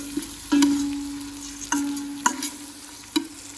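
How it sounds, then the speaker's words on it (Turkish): Washed red lentils being sautéed in a pot for lentil soup, with a spoon scraping and clacking against the pot in a few distinct strokes over a soft steady sizzle. "Güzelce mercimeğimizi de birazcık kavuracağız"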